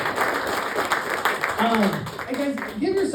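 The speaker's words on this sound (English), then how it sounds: "give another round of applause for Daryl" A comedy show audience applauds for a comedian, a steady patter of clapping that holds throughout, with people talking and calling out over the clapping toward the end.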